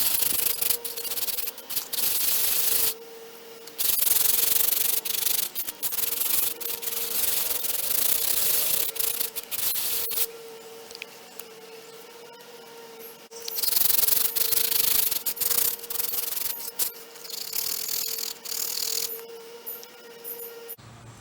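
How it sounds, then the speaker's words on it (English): Wooden ocarina halves rubbed by hand on 60 grit sandpaper, producing harsh, close scratchy strokes in repeated bursts with short pauses between them, alongside a faint steady background hum. "I'm going to just rub each half on this piece of 60 grit sandpaper just to make sure it's completely flat"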